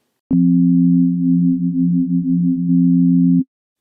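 A steady low PlayCell synth sine tone with its depth macro adding gentle modulation, a faint wobbling shimmer over a clean hum lasting about three seconds and stopping sharply.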